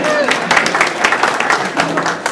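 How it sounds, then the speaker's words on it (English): A burst of scattered audience clapping at a magic comedy show, with some voices mixed in, moderately loud and continuous for a couple of seconds. "All the quality people, give yourself a round of applause."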